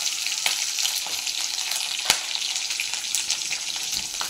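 Green chillies sizzle in hot ghee, a steady crackling spit with a few sharper pops, close by and alone with no voices.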